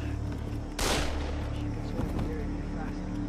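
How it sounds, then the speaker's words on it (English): Single loud, sharp gunshot blast from the video game Far Cry 3 cuts through steady background ambience, followed by a fainter crack a moment later. "Somebody's shooting Ali."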